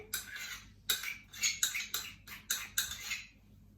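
Cream cheese, butter and icing sugar being stirred in a bowl: a run of scraping, clinking strokes of a utensil against the bowl, about eight quick rhythmic bursts, close and fairly loud with no talk.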